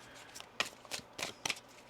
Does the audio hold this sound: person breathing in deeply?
no